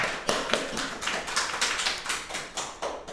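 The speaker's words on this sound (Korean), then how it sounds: "시간 맞춰서 강연을 해주신 김병수 박사님께 박수 부탁드리겠습니다" Audience applause for Dr. Kim Byung-soo after a short lecture on GMOs, heard as a small scattered group clapping with distinct individual claps rising and falling over a few seconds.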